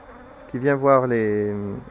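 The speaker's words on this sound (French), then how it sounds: "Il y a un petit peu trop d'abeilles là-dedans." A single honeybee buzzes close by at a hive, a loud droning hum that swells and wavers for about a second before fading.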